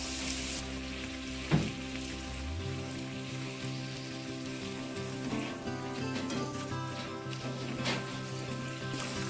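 Koraishutir kochuri fry in oil gone dark from leaking filling, giving a quiet, steady bubbling sizzle with a soft knock near the start and a faint hum running beneath.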